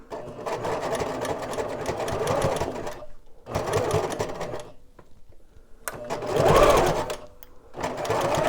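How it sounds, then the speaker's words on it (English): A sewing machine stitches through bulky fabric in steady whirring runs, close and loud, stopping briefly between passes with a short pause and a slower strained stretch. "So it's a little bit bulky right there, so I'm gonna try my best to"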